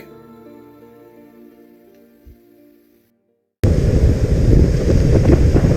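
A quiet tonal hum fades to near silence, then loud blustery wind and crashing surf roar in abruptly and continue.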